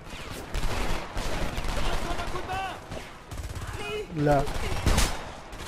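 Gunfire in the video game Homefront, bursts of shots mixed with a chaotic battle soundscape of explosions and effects, while someone talks over the action.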